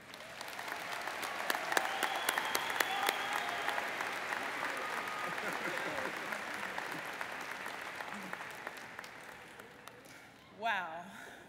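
Graduation audience applauding a student speaker, sustained loud clapping from a large crowd that tapers off over several seconds, followed by a brief voice at the end.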